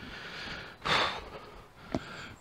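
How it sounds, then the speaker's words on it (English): Heavy, effortful breathing of a person walking along a disused railway track bed near a viaduct in West Yorkshire, with a sharp exhale burst and a quick snort-like breath close to the microphone. "Sorry for the heavy breathing."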